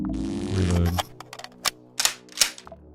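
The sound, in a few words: shotgun reloading in the video game Quasimorph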